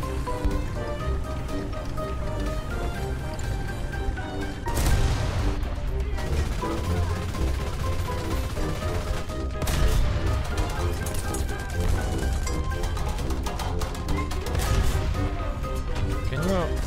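A low-tier German tank in a World War II video game fires its main gun, heavy booming shots at intervals over busy battle noise, with a player talking throughout.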